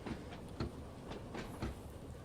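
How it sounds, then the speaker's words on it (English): A train on the Isle of Wight line in Train Sim World 2 rolls and slows with a soft, regular clickety-clack of wheels over rail joints above a low rumble, fairly quiet. "hit the brakes, and nice and slowly bring train to a halt"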